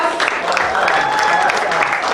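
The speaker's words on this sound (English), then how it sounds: "Please give a round of applause." Steady audience applause at a poetry reading fills the whole stretch, dense and even, with a faint tonal line running through it but no clear talking.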